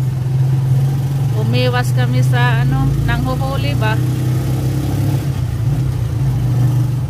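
A motorcycle-powered tricycle's engine drones steadily and loudly throughout the ride, a constant mid-pitched hum with a person talking over it partway through.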